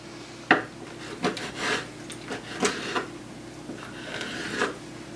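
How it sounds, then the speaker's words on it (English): Kitchen knife slicing squid into rings on a board, a few separate soft cutting taps and scrapes spread out, close and fairly quiet, with no talking. "I'll just start cutting it up into rings"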